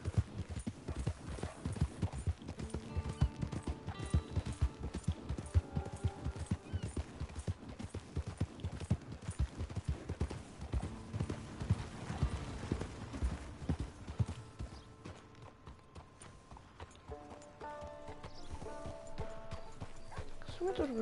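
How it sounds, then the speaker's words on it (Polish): Horse hooves clip-clop in Red Dead Redemption 2 in a steady rhythm, loud and close, with occasional neighs and game music or effects; a voice talks over parts of it. "No ale wsiadamy na konia."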